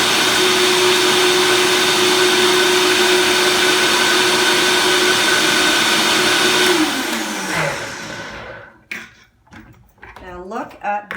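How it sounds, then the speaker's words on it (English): A blender runs loud and steady blending cauliflower pine nut sauce, its motor whine holding for about seven seconds before winding down, followed by a person speaking. "and then we'll give it a nice blend"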